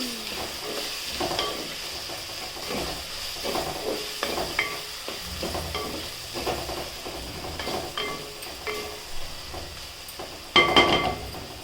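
Ground garlic and green chili paste sizzles in a pan for a drumstick-flower vegetable dish, a steady frying hiss with rhythmic scraping of a spatula and a sharper burst of clatter near the end.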